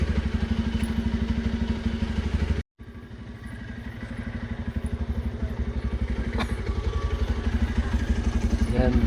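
Two motorcycles ride along a foggy village road, their engines chugging in a steady close throb that briefly cuts out and then builds again, with voices talking over it.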